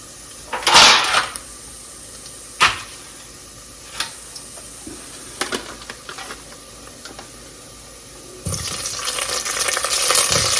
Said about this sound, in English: We're going to drop our okra.